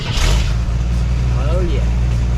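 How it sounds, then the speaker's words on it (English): A classic Jeep engine rumbles loudly and close up after starting, a deep steady idle with no pauses across the short stretch. "Give us a little bit of a start up here."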